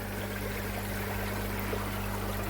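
Air bubbles vigorously through an Oase ProfiClear Compact-M pond filter drum, fed from a newly fitted airline tap, giving a continuous dense rushing and gurgling water sound with a steady low hum underneath, loud and close throughout.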